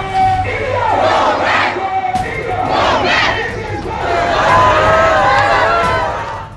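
Dense crowd at a funeral in Kulgam, Kashmir, chanting slogans loudly in rhythmic rising bursts, many voices shouting together up close.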